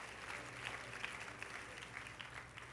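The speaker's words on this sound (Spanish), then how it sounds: "De un aplauso que llegó Ebenezer." Applause from a congregation at a Christian worship program, heard faint and distant as a steady patter of clapping throughout.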